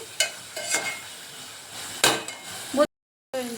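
Sliced chicken drops into a pan of softened tomatoes for an Andhra-style chicken curry, giving short bursts of sizzling and stirring scrapes between quieter moments, close by, with a brief silent gap near the end.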